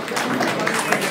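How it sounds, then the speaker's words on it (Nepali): An audience at a gathering at the Kaudinya Rishi Ashram in Devghat claps in a brief, steady burst of crowd applause, dense and even throughout one second. "ताली बजाइदिनु।"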